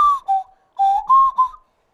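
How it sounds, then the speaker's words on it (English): A nose whistle made as an ebony wood bird call from Ghana gives a few short, clear whistled notes that dip and rise in pitch, alone and close. "This is called a nose whistle."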